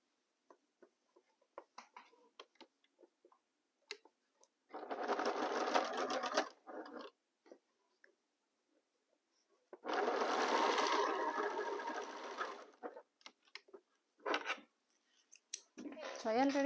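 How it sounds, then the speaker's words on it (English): Two steady runs of a sewing machine stitching nested seams of a quilt block, each lasting about two seconds, close and clear amid quiet handling clicks, with brief talk between. "We nest the seams here and continue sewing."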